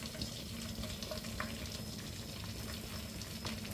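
Egg poured into a hot pan for onion paratha, giving a soft, continuous sizzle and frying hiss that stays faint and even throughout.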